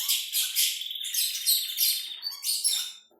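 Pet canary singing: bright, rapid trilling phrases and chirps in several bursts with short pauses, close and clear, no voices.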